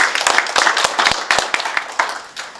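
A small audience at a youth symposium gives a short round of applause, with close, crisp individual hand claps in an irregular patter that holds steady before easing slightly.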